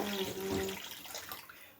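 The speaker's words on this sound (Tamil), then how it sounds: "நான் வந்து இன்னொரு 1/2 டம்ளர் தண்ணி ஊற்றிக்கிறேன்" Water poured from a tumbler into warm milk in a pan while making milk kesari, a short steady splashing pour that fades out, with no talking.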